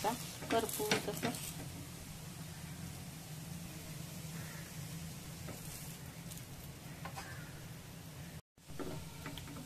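Thalipeeth flatbread roasting in oil in a pan, giving a steady low sizzle and crackle through the whole stretch with a few brief stirring or scraping clicks, one sudden short dropout near the end, no talk.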